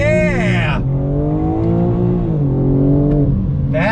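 2021 BMW M4 Competition accelerating hard on a twisty road, engine revving up loudly, a quick gear shift dropping the pitch, then climbing again before another shift, with a voice heard over it.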